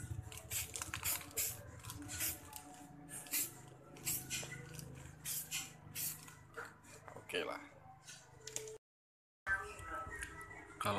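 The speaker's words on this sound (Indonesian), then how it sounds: "Kayak jarak gue nyemprot." Clear coat is sprayed from an aerosol can onto a printed vaccination card in repeated hissing bursts at close range, with brief pauses between passes and a short silent gap near the end.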